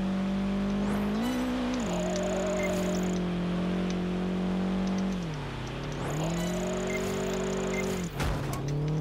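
A racing car drifting in Project Gotham Racing 4, its engine droning steadily with pitch rising and falling through the slide, tire squeal whining above, and a brief dip before revving back up near the end.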